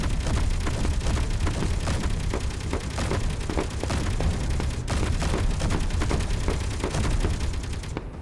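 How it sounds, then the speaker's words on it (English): Autocannon fire in the video game Space Engineers: a dense, continuous stream of rapid booming shots, loud and close, with a brief break near the end. "Auto cannon run out of ammo already."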